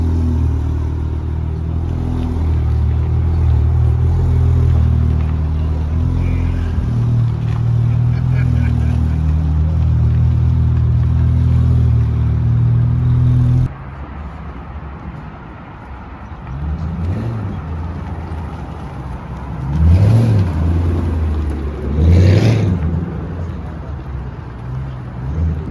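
A 1,000-horsepower Porsche 911 Turbo at a car meet, heard as a loud, deep engine drone that cuts off midway, leaving quieter rumbling with a couple of throttle swells.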